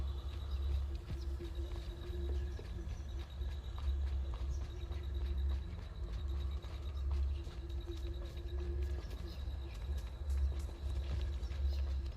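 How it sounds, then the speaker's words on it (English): Magical flying Pegasus horses galloping in the video game Hogwarts Legacy, a rhythmic muffled clip-clop of hooves over a low rumbling bed, steady and fairly soft throughout. "Except with magical flying dead Pegasus horses."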